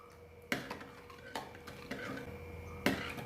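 A spoon clinks against a glass or bowl while ground rock sugar is stirred into bael juice, several sharp distinct taps spaced irregularly, close and fairly quiet, with no talk.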